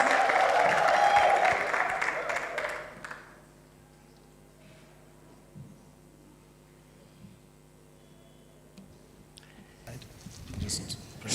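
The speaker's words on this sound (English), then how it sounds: "Can you give him a big round of applause as he comes?" An audience at a university entrepreneurship competition applauds a speaker walking on stage: a dense wash of clapping for about three seconds that then fades out, leaving quiet room noise with small scattered sounds afterward.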